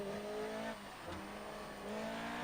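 Race car engine from a racing video game at Monaco, with harmonic engine tones that rise, dip and then climb again as the throttle is eased on, played steadily and fairly close.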